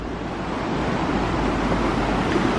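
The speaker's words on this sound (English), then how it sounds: "All I could hear is the water right now." Water washes steadily near haunted ruins, a continuous broadband rush with wind mixed in, loud and even throughout with no talking.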